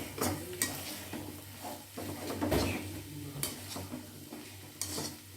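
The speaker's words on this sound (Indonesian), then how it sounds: "ini aduk terus hingga semua sayurnya tercampur dengan tepung" Vegetables being stirred with flour in a pan for pastel ragout filling, soft scraping and clinking of a utensil against the pan over a faint sizzle, with a few louder knocks.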